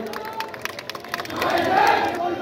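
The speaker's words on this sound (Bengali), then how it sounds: "আমরা সকলে করতালি দিয়ে তাদেরকে স্বাগত জানাই।" A crowd at a BNP 46th founding anniversary rally in Jamalpur greets a large Jubo Dal procession, scattered claps and shouts building into a sustained, loud crowd roar with cheering.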